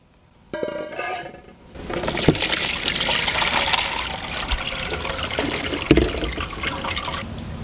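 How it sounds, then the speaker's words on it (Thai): Water gushes and splashes steadily as it is poured off soaked neem seeds, a loud, continuous pour lasting several seconds after a brief clatter at the start. "ทีนี้ให้เทน้ำออกนะครับ"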